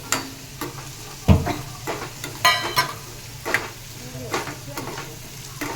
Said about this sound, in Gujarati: કાજુ થોડા તળાઈ જવા આવે એટલે એમાં આપણે પિસ્તા નાખી દઈશું।